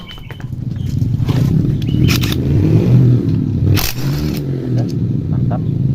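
An 18V Makita-style generic impact driver loosening a rear wheel bolt on an automatic scooter, a loud, close, rattling hammering buzz that surges and holds for several seconds, with short sharp knocks around it.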